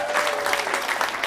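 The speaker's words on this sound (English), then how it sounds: "By round of applause, how many of you folks have jobs?" A live comedy-show audience bursts into brief, dense applause, loud and close, with a few voices mixed into the clapping.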